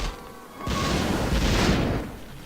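Mortar fire rumbles through a Warcraft 3 free-for-all battle: a dense, booming blast swells suddenly, holds loud for about a second and a half, then fades into the game's background noise.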